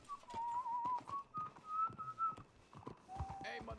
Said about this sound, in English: Hey, who is that whistling?